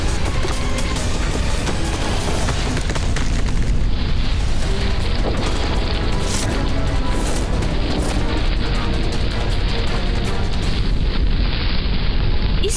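Loud, dense rumbling fills the whole stretch as a continuous roaring, crashing din with no clear pauses, heavy and close, shifting slightly in texture partway through.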